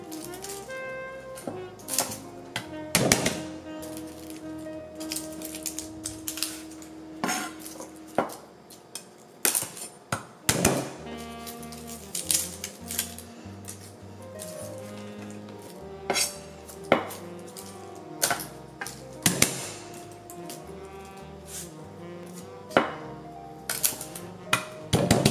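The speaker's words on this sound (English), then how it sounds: "let's chop this stuff up. So let's do our garlic first." A knife chops garlic on a cutting board during gumbo prep, with irregular sharp taps and clustered strikes over soft background music.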